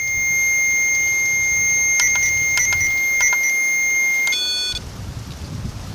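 A REM pod ghost-hunting device sounds a steady, high electronic alarm tone broken by a few quick pulsing chirps, then falls silent, leaving soft outdoor background noise.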